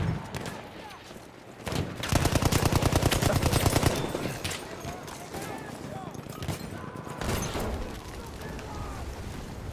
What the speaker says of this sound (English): I'm getting sniped at.